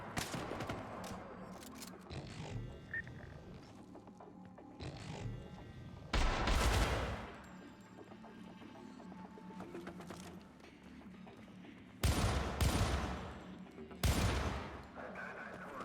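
Sniper rifle fire in an Xbox 360 video game, with a few loud, broad shot bursts, two close together and then another, standing out against a steady low background.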